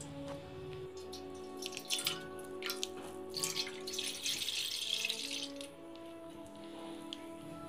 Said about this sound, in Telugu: వాటర్ యాడ్ చేసుకున్న తర్వాత మనం డైరెక్ట్గా పాలు పోసేసుకుందాము.